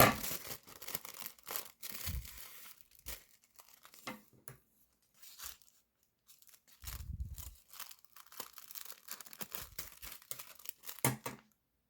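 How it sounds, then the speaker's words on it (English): Paper sewing pattern being cut and handled, with intermittent crinkling, tearing and snipping sounds in short bursts and a few louder low rustles, close and fairly quiet, with no talking. "But we are going to cut out a circle so for placement."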